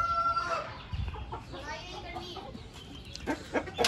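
Backyard hens cluck steadily and a rooster crows nearby, loud and close, with people talking over the birds.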